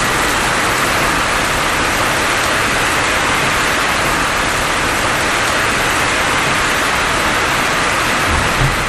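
Heavy rain pours down steadily in Erode, Tamil Nadu, a dense, loud, continuous hiss of falling water with no voices.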